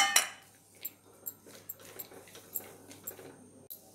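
Peanuts frying in ghee in a kadai, stirred with a spoon that gives soft, intermittent clinks and scrapes against the pan over a faint low hiss, close and fairly quiet.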